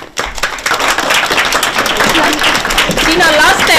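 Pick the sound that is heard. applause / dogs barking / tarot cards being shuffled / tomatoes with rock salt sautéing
applause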